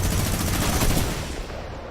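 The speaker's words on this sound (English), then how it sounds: "Shots through. Minigun," A minigun fires in the Fortnite game during a solo finals match, a dense, loud, continuous roar of rapid shots over about two seconds, fading slightly toward the end.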